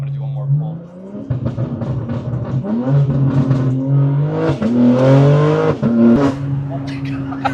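A BMW G80 M3 engine revs hard through a full acceleration pull, the tone climbing repeatedly with quick shifts between rising sweeps, loud and close from inside the car.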